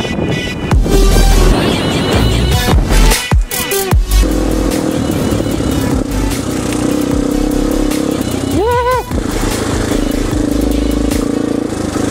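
An enduro motorcycle rides off-road along the Provence and Côte d'Azur coast, its engine droning steadily and loudly close to the microphone, with revving rising and falling throughout and heavy wind buffeting over it.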